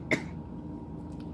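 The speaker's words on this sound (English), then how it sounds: "I don't mean to cough or anything." One short, sharp cough near the start, close and fairly loud, followed by quiet room tone.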